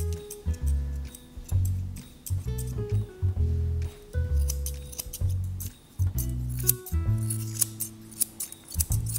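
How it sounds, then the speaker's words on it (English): Grooming scissors trim the hair behind a dog's muzzle to shape a donut-style muzzle, a close, crisp run of rapid snipping in short irregular bursts, each cut a sharp metallic click. "And scissoring behind the muzzle"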